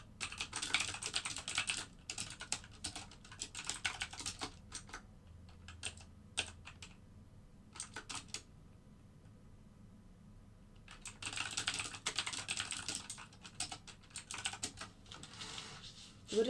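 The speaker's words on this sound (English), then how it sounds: "So I'm just going to type that in the group." Rapid typing on a computer keyboard comes in two dense bursts of clicking with a quieter pause between, close up and with no speech.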